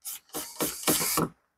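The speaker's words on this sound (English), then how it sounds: "you don't need a belt sander, but you can do it on a little sanding block" Sarkanda reed float rubbed on a small hand sanding block, heard as four or five short rasping strokes in quick succession, close and fairly quiet, with no voices.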